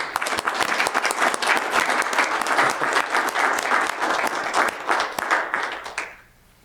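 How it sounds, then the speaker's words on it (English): An audience at a Weber County meeting claps steadily for a staff honoree, a dense, even round of applause from many hands that lasts about six seconds before quickly dying away. "Let's give her a round of applause."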